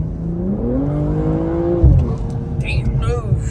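A 2022 BMW M240i with a JB4 tune on map 1 revs up from warm, its engine note climbing steadily in pitch and then dropping back to a lower rumble, close and loud, with voices briefly audible near the end.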